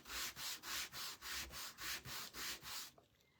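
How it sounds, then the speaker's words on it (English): A small sanding block rubs back and forth across a wooden farmhouse-style sign being distressed, making ten regular scratchy strokes in a steady rhythm, close and fairly loud, then stopping. "So I'm just going over it with this little sanding block."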